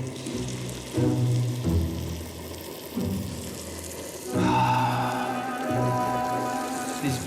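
Fish sizzling as it fries in butter and garlic in a big frying pan, a steady crackle that swells louder when the fish goes in and keeps hissing close by.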